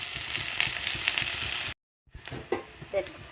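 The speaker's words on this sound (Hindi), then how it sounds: "यहीपरी भाव में 10 मिनट पर्यंत पियाज अदा रसुण को फ्राए करवा।" Onion, ginger and garlic frying in a pan, loud continuous sizzle that cuts off briefly, then returns softer with scattered crackles and stirring.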